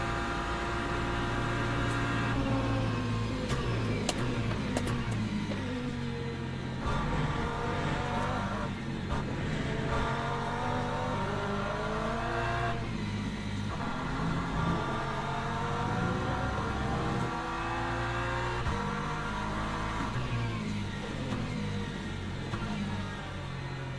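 Racing cars, LMP2 prototypes among them, in the sim racing game Le Mans Ultimate at the Spa circuit, with a steady loud engine drone and shifting whine that rises and falls through gear changes.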